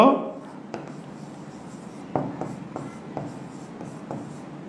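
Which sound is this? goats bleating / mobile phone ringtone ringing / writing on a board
writing on a board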